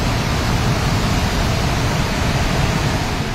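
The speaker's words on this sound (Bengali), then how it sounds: "এটা হচ্ছে গেটের জল, এদিক দিয়ে গেটের জলটা আসে, যে গেট ছেড়ে দেওয়া হয়েছে বলা হয়েছে" Floodwater released through a dam gate pours past in a loud, steady, broadband roar that holds unbroken throughout, close at hand, with no talking.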